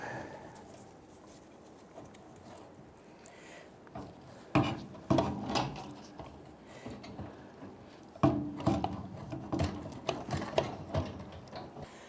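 A fuel pump and sending unit with float is worked out of a 1994-2004 Ford Mustang fuel tank, irregular plastic and metal clunks, scrapes and rattles that grow busier and louder in the second half, close by.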